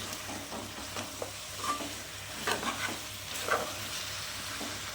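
A spoon stirs and scrapes through chicken curry with drumstick leaves sizzling in a hot pan over high flame, with irregular clinks and scrapes over a steady frying hiss.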